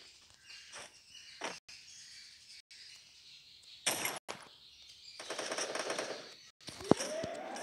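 Rapid bursts of gunfire in the mobile shooter game Free Fire, several sharp volleys spread across the clip with a loud crack near the end, mixed with other in-game effects and no talk.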